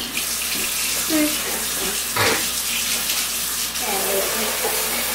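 Tap water runs steadily into a sink during rinsing, a close, continuous splashing hiss, with a voice talking briefly over it.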